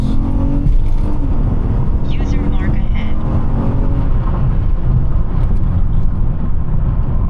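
A Honda Accord EX-L with a 278 hp V6 revving hard while driving fast, loud and close, with a constant engine drone and road roar throughout, and a voice speaking briefly over the noise.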